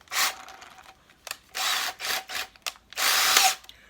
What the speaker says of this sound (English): So let's get my pistol drill, let's put this in.